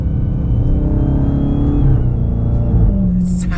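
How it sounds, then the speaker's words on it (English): A supercharged 2020 Dodge Charger SRT Hellcat Widebody engine drones and revs loudly from close by, with a faint high supercharger whine over the low rumble. "listen to that supercharger"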